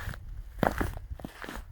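Footsteps crunching over frost-covered garden ground in a UK winter, a few close, crisp crunching steps in quick succession with no talk.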